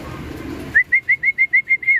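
Racing pigeons arrive at the home loft after a 107 km race from Atimonan, Quezon: a low rumble gives way to eight short, evenly spaced high whistling pulses, loud and near.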